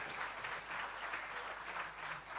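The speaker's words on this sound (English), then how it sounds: "Round of applause for their instructor" Steady applause from a crowd at a CXC regional awards ceremony in St Lucia, continuous clapping that holds at an even level throughout without voices over it.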